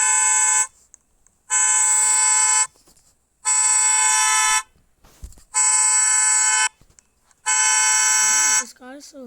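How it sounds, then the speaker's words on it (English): A Kia K5 GT panic alarm blasts its horn in loud, evenly spaced honks, five long pulses with short gaps between them, close by. "Okay, we are going to alarm this car."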